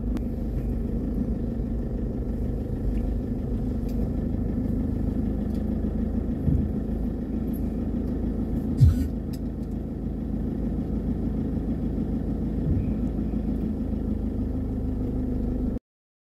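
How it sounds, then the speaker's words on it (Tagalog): Steady road traffic heard from inside a vehicle in slow homeward congestion: a continuous low engine rumble and idling hum throughout, with a brief louder knock partway through and no talking. "Traffic na pauwi."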